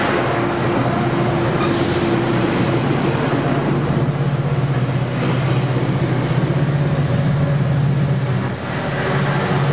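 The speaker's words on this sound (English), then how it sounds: "A nice meet between the two Metrolinks." Metrolink commuter trains, with a Bombardier cab car in the consist, pass at Fullerton station in a loud, steady rumble with sustained humming tones throughout and no talk.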